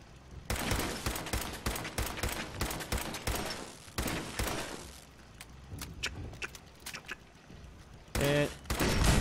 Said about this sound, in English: Pipe rifle.